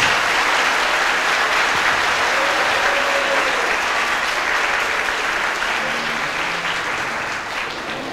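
Congregation applauding during a Catholic preaching service, a sustained dense wash of clapping from many hands that stays loud and steady throughout, with faint voices underneath.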